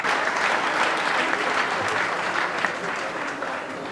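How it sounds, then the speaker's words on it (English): A crowd at the Imo State gubernatorial debate claps steadily and warmly for the candidates, a dense, sustained wash of applause in a large hall. "Ladies and gentlemen, can you please give them a round of applause?"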